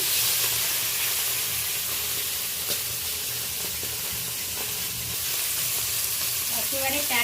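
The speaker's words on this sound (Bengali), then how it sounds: "এবার আমি কিছুটা পরিমাণ মাছ তুলে দেব ভেজে নেওয়ার জন্য" Small live mourala fish from a pond frying in oil, a steady close hiss and sizzle filling the whole stretch with occasional crackles and a brief stirring clink near the end.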